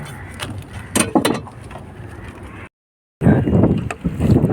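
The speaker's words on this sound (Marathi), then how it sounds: "आता वारा जाम सुटल्या" Strong wind gusting across a small boat out mud crab hunting, loud rough buffeting with sharper bursts, cutting out briefly to silence before returning just as strong.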